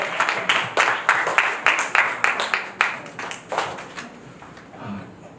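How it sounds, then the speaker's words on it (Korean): Church congregation applauding during a Sunday worship service, a steady run of fairly loud claps that gradually thins out and fades toward the end. "주님께 영광의 박수 한번 돌립시다."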